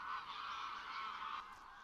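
A dense chorus of geese honking continuously, many birds calling at once, loud and steady before easing slightly toward the end.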